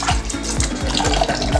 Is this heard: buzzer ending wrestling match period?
no